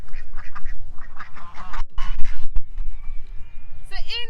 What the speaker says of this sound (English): Now these are runner ducks, and they're Indian runner ducks from India